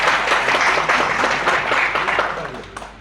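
An audience claps at an award and felicitation ceremony at a public event on water conservation and journalism in Rath, with dense, steady applause and a voice talking over it.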